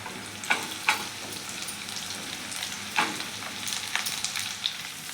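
Onion pieces fry in a pan with a continuous soft sizzle, and a few sharper crackles and spatula taps come through at intervals.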